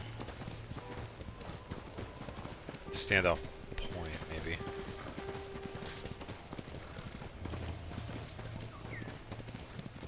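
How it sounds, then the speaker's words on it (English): Steady clip-clop of the horse Kaze trotting in the video game Ghost of Tsushima, moderate and continuous beneath background game music, with a brief burst of other game sound and someone speaking briefly. "I will grab Kaze, the horse"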